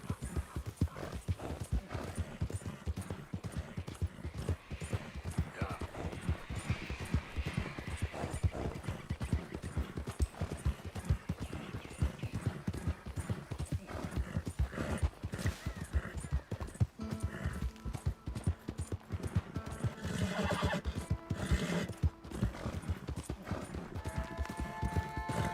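A horse in the Red Dead Redemption 2 video game gallops with rapid continuous hoofbeats, joined by a few neighs and whinnies near the end, fairly faint overall.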